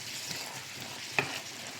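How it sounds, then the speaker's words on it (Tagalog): Onion and beef sautéing in a pan for chilli con carne give a quiet, steady sizzle with soft stirring scrapes and one brief sharp clink of a utensil partway through. "Gisa-gisa lang tayo"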